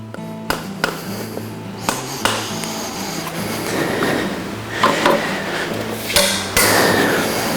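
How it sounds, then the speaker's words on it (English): A urethane hammer strikes a horseshoe nail against a clinch block as a farrier clinches a Kerckhaert SX front shoe. Several distinct close taps come at uneven intervals over a steady low hum. "I'll use the urethane hammer and the clinch block and start the clinch"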